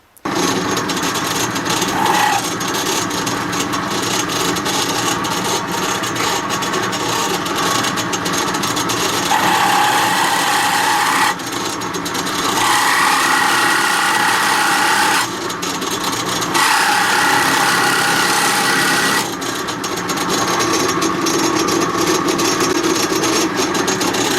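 A power drill with a 9.2mm bit drills a magnet hole in a Daiwa 7HT fishing reel, running steadily and loudly for about twenty-four seconds, its whine rising in pitch in several bursts as the bit bites and eases.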